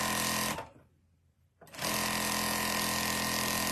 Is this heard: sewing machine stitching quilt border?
yes